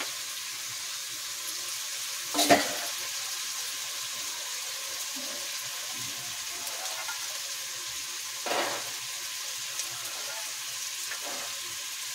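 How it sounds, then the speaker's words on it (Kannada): Ingredients with garam masala frying in oil in a pan while making ghee rice, a steady soft sizzle throughout with a few brief clatters of stirring. "ಎಲ್ಲ ಎಣ್ಣೆಯಲ್ಲಿ ಚೆನ್ನಾಗಿ ಫ್ರೈ ಮಾಡ್ಕೊಬೇಕು."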